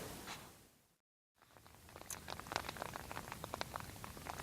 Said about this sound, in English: it's raining outside now.